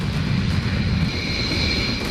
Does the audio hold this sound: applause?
no